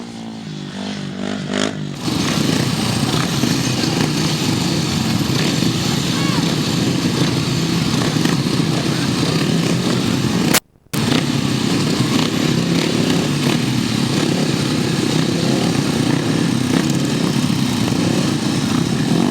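500cc solo grasstrack racing motorcycles roar continuously and loudly at the 2006 Capel Classic meeting, engines sustained with a brief cut near the middle, while a commentator talks over them.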